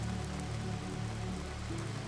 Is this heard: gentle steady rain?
yes